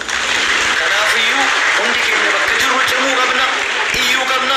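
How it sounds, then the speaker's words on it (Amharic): A lecture audience breaks into sustained, loud applause, a dense wash of clapping that holds steady for several seconds with voices mixed in. "አጨብጭቡለት።"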